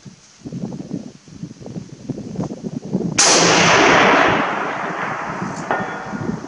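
A Vz 54 rifle fires one sharp, loud shot at a target 600 away, then a long rumbling tail that fades over several seconds, with a faint later click or report. Rustling and handling noise come before it.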